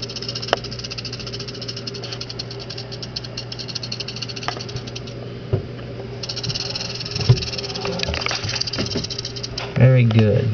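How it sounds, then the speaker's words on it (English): A western diamondback rattlesnake buzzes its rattle in a sustained dry whir, close and moderately loud, with a few thumps and handling noises and a louder burst near the end. "Giving the rattle as I get closer to him."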